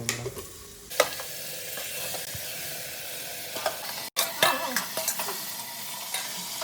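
Country chicken curry stirred and mixed in a pan, a spoon scraping and clinking against the metal amid a soft sizzle, several short scrapes in the second half.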